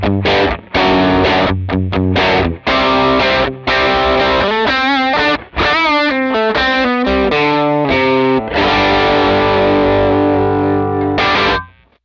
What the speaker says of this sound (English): the point of this overdrive is to give me a little bit of a thicker, kind of bigger overdriven sound that sounds good with rhythm